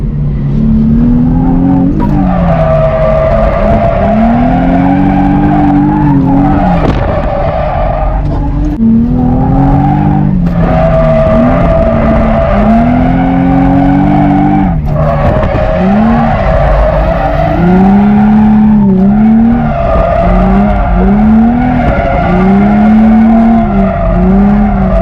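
Drift cars at IAS Drift squeal their tires in long, wavering screeches over roaring, revving engines, close and very loud, with one slide after another across the whole stretch.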